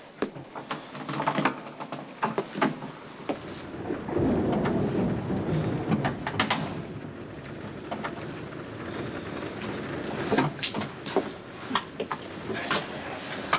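A thunderstorm rumbles outside, with a heavy low roll of thunder building midway and lingering, over steady rain and wind noise, punctuated by scattered sharp knocks and clatters.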